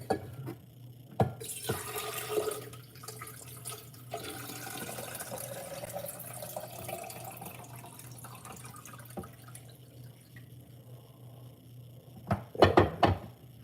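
Water runs steadily from a tap for several seconds to refill a container, a soft continuous splashing with a low background hum, then a few brief clunks and knocks as it finishes.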